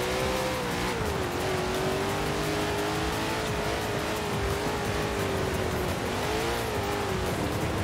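Car engine droning steadily in the Forza Horizon 4 racing game while the car drives on slippery snow, its pitch gently rising and falling with throttle over a constant road and tire noise.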